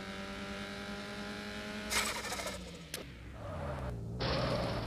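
A Honda Civic Si engine in a racing game, droning steadily around a race track, then revving hard with a sharp transient and climbing again, loud and close.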